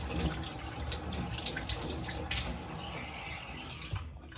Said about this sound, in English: we can turn the tap back on. Make sure you rinse all of the soap suds away.